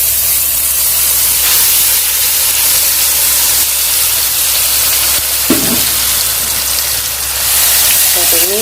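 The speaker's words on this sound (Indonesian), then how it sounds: "Pertama kita panaskan sedikit minyak, kemudian kita masukkan bumbu halusnya." Ground spice paste sizzles and fries in a little hot oil, a steady loud hiss with occasional stirring clinks and scrapes.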